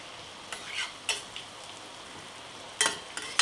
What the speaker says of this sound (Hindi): इस लहसुन को इसमें ऐड कर लेंगे और दोनों को साथ में हम पकाते रहेंगे, जिससे कि बटर भी मेल्ट हो जाएगा और लहसुन भी अच्छे से फ्राई हो जाएगा